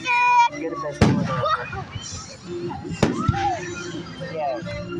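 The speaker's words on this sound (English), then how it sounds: "Thanks for taking us to see these awesome fireworks." Fireworks burst loudly twice, several seconds apart, each sharp bang trailing into crackle, with excited children and an adult talking throughout at a July 1st fireworks display.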